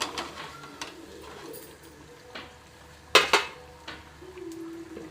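Plates being handled while serving freshly fried mirchi bajji: soft kitchen clatter, then a pair of sharp ceramic clinks close by, followed by lighter taps.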